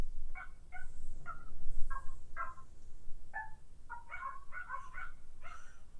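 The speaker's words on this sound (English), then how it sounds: "Can you hear the dogs barking in the background?" Several dogs barking in the background of an indoor livestream, a steady series of sharp, distant yaps and barks over a low room rumble, with no one talking.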